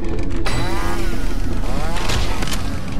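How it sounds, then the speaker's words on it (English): A chainsaw revs in a Roblox fighting game: a loud, continuous buzzing engine drone with rising and falling whines and sharp impact bursts, close and steady throughout with no talk. "Alright, he's got a chainsaw as well."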